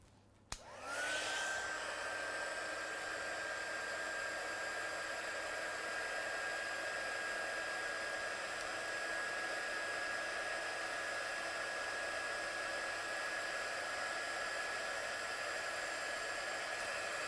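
A heat tool heat-sets watercolour stencil work: after a brief click it roars into a steady, loud blowing hiss with a high whine, running unbroken to the end.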